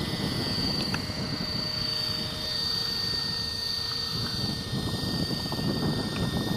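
A Great Planes Piper PA-28 Cherokee RC model airplane flies with a steady, continuous engine drone, loud and constant throughout, with a faint wavering tone above it and no talking.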